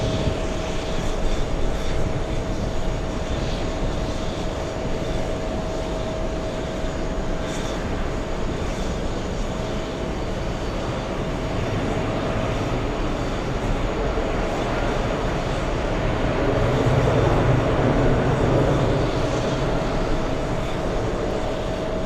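An airliner lands at JFK airport, its engines a broad, steady roar heard from outside on the ground, swelling toward the end, with wind noise and no talking.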